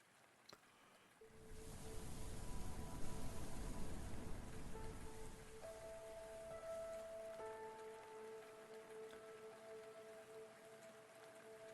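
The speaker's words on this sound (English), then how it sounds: "The fallen raindrops gently tickled his palms." Rain falls in a steady, dense patter that swells in and then continues evenly, with faint sustained tones underneath and no voices.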